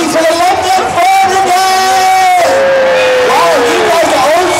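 Crowd at the London New Year's Day Parade on Whitehall cheering and whooping loudly, with a steady roar of voices, shouts and a bright whistle-like tone rising through it, dense and continuous throughout.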